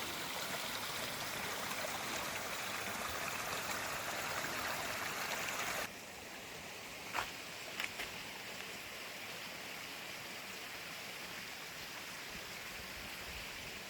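Mountain stream in Norway rushing steadily, a dense continuous wash of flowing water that drops to a softer, quieter trickle midway, with a couple of faint knocks.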